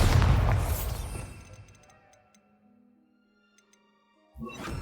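The Bombarda spell in Hogwarts Legacy bursts with a loud, close boom that decays into faint crackling debris, then silence, before another sound starts at the end.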